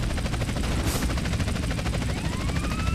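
Military helicopters in GTA San Andreas, with a steady, loud, rapid rotor chop pulsing throughout, dense with overlapping machine-gun fire and a rising whine near the end.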